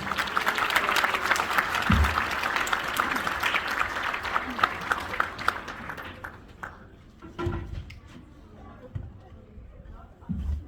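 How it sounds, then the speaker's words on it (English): An audience at a magic and music show applauds a performer, loud dense clapping that gradually thins and fades, followed by scattered sounds and a voice. "A big round of applause for Isabel"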